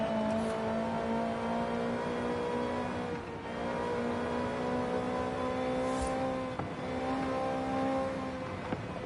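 Video game car engine revving hard through a run of clean gear shifts, a steady harmonic whine rising and dropping at each change, held just short of the rev limiter, loud and continuous.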